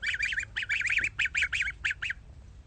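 Heritage breed geese on a farm, ganders giving a run of rapid, nasal honking calls in short rhythmic bursts, close and clear over a quiet background.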